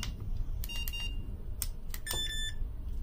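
Several short electronic tone beeps from an ET300 Mini Educator e-collar remote, sounding in quick clusters at close range over a quiet background with no talking.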